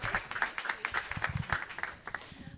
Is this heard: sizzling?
no